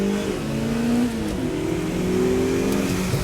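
A car launches hard in a drag-style run, its engine note climbing steadily through the revs after a brief bog at the start, loud and close with a continuous roar throughout.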